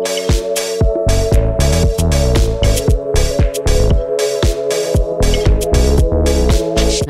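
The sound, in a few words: arpeggiated synth pad on a Prophet synthesizer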